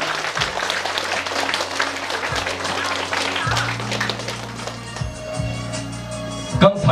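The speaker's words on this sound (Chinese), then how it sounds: "来，掌声。" Wedding guests at a Chinese ceremony break into broad applause that runs steadily throughout, with low sustained music or hum beneath and a brief louder burst near the end.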